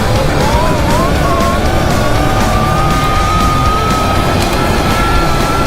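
A Sur Ronster electric dirt bike runs at full throttle, its motor whine rising and then holding a steady high pitch under loud, continuous wind and road roar.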